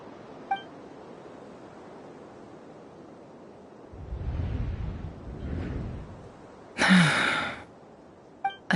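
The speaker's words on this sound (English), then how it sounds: "I heard Yehuda gasp" A female character in Genshin Impact gasps once, a short breathy intake standing out sharply over a low, windy ambient bed, with softer sighing breaths before it.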